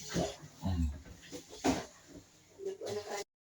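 A pig grunts and oinks in short, irregular bursts at close range, mixed with people talking and laughing nearby.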